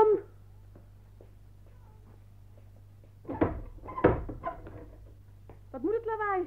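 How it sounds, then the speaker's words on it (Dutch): A door is kicked in with two heavy, close thuds after a quiet stretch, followed by a voice. "Waarom trap jij bij vreemde mensen de deur in?"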